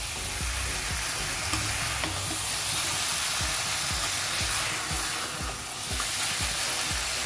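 Meat sautéing in a pan with very little oil and splashes of water, a steady close sizzle under repeated scraping strokes of a spatula in an even rhythm, with no voices.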